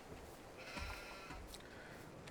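Sheep bleat in the Farming Simulator 22 farming game, a couple of wavering bleats over a steady noisy ambient background, fairly faint and with no talking.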